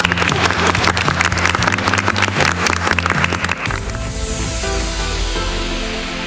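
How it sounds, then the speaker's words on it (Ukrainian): A television programme audience claps loudly and densely in sustained applause, which cuts off abruptly partway through and leaves a quiet, steady tone. "Аплодисменти."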